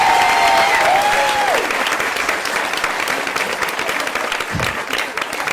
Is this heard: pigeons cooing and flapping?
no